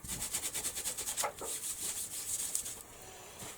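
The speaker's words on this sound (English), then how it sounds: "Give this a quick rub down with the baby wipe, because I don't want it to stick." A baby wipe is rubbed briskly over a craft surface, giving a rapid rhythmic scrubbing swish up close that slows into softer, steadier wiping.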